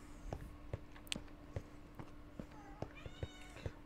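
A small house cat meows several times at close range, short tonal calls rising and falling over light background clatter and ticking.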